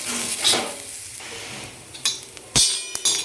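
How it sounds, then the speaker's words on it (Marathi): Onion roasting in oil in a pan for a drumstick-pod vegetable dish, a steady soft sizzle under scattered scraping stirs and a few sharp clinks of a utensil against the pan, no talking. "तर भाजून घेऊ आपण याला दोन मिनिट लागतं भाजायला"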